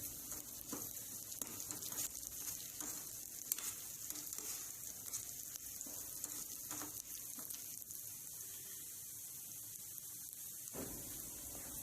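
Sliced onion and curry leaves sizzle in hot oil in a pan, a steady soft frying hiss with occasional stirring scrapes and pops, no talking.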